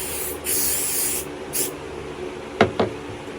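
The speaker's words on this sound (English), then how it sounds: "I am going to pre-spray it with some Bastine Spray and Bond temporary hold adhesive." Bursts of Basting Spray and Bond temporary adhesive sprayed onto fabric: a long hiss, then a shorter one, followed by two quick soft taps or rubs, close and clear.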